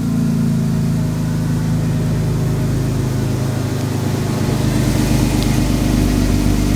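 A Jeep Wrangler engine idles steadily during a warm-up, a loud, close, continuous low rumble with an even throb and no voices.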